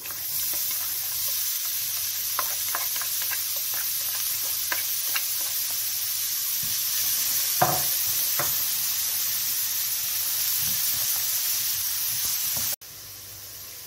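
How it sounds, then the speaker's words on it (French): Red onions fry in olive oil for a mushroom risotto, a steady bright sizzle close up with occasional small pops and utensil taps, ending abruptly into quieter background. "Vous rajoutez un petit peu d'huile d'olive et nous allons faire revenir nos oignons rouges."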